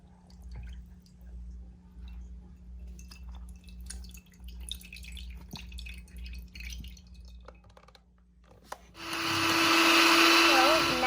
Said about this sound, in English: So now we're going to add condensed milk and then blend it again.